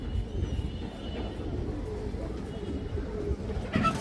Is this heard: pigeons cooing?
yes